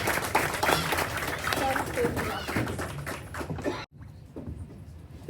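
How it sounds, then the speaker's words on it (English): An audience applauds as a speaker is welcomed at an Ambedkar Jayanti event, with dense clapping from a crowd and voices mixed in, then a sudden cut to a quieter room. "Let's give a warm round of applause as we welcome Mr. D.C. Manjunath."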